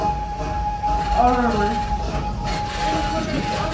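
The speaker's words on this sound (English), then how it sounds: "the train we're currently sitting on right now" Steady rumble and rolling clatter from the Serengeti Express park train at Busch Gardens Tampa Bay, heard from aboard the ride, with a sustained tone over it and people talking faintly in the background.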